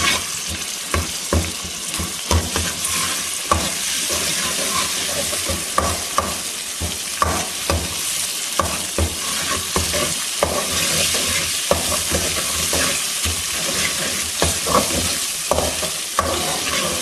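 Ginger-garlic paste fries in a spoonful of oil for baingan ka bharta, a steady close sizzle with frequent scraping and stirring clatters, no voices.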